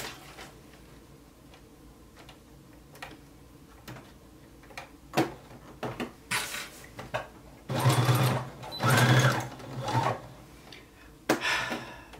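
A home sewing machine top stitches a kids jacket, giving a faint ticking run and then several louder, close whirring bursts of rapid stitching, with no talk.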